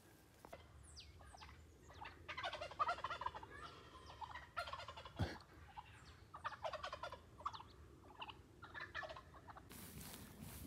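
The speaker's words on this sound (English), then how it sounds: "We sure are encountering the turkeys over here a lot." Wild turkeys gobble repeatedly in an outdoor California garden area, a flock calling in overlapping bursts at moderate distance, the rattling gobbles rising and falling throughout with no one speaking.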